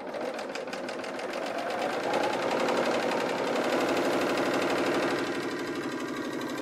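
A Bernina L890 serger sews a test stitch, running at speed with a rapid, even mechanical chatter that holds steady for several seconds, close and fairly loud, with no talk over it.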